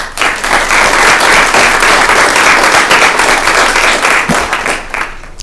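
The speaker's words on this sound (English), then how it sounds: "I'd love to give them a big round of applause as well" Students and guests at a Student Government Association meeting give a big round of applause: loud, close, continuous clapping from a sizable room that stays full throughout before tapering slightly at the very end.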